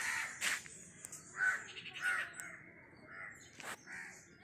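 Crows cawing outdoors, several harsh calls at irregular intervals, moderately distant and fairly quiet, with no talking.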